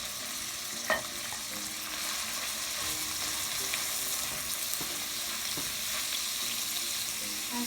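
King oyster mushrooms frying in a pan give off a constant close sizzle with one sharp crackle near the start, steady and unbroken, with nobody talking.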